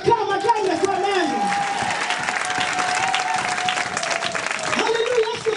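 An audience at a women's prayer gathering in a church applauds steadily and continuously, with a voice speaking and calling out over the clapping throughout.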